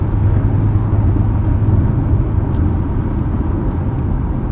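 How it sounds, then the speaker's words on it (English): A Chevrolet Corvette E-Ray in manual mode pulls hard in 8th gear at about 1700 RPM, giving a steady low engine drone and road rumble from inside the cabin with no speech. "We can go into manual mode, put us in 8th gear, roll into it, and we just get a ton of acceleration at 1700 RPM."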